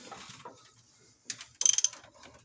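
A hand ratchet tightening bolts on a 1998 Chevy K1500 engine during tensioner and alternator work, with a few soft handling sounds followed by a quick, loud burst of close metallic ratchet clicks.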